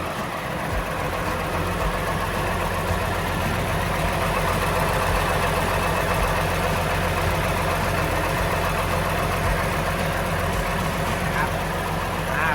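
A TCM L39 wheel loader's diesel engine runs steadily nearby, a continuous loud idling rumble with a constant low drone throughout.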